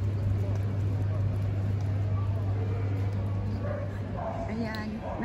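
A dog barks on Rue de la Pompe, a Paris street, in a few short, moderately distant bursts over a steady low hum of city background.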